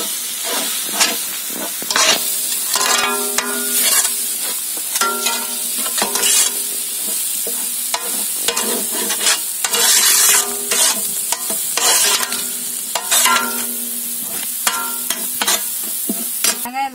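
Spice masala of cumin powder and salt being stirred and sautéed in a pan in a village kitchen, a steady sizzle with repeated scraping strokes of the spoon across the full stretch, close and fairly loud, no talking.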